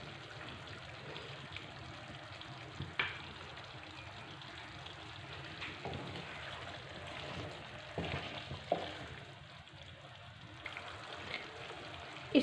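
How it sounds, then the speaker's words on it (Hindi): Chicken frying for Afghani karahi, a soft steady sizzle with faint stirring scrapes and occasional spatters in a quiet kitchen. "इसको भून लेंगे।"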